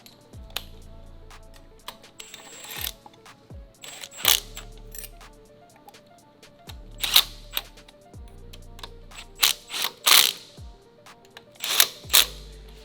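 A ratchet clicks in short bursts of quick ticks while supercharger parts are tightened down on an LS-swapped RX-7, the bursts separated by pauses, with occasional sharper metallic clanks between them.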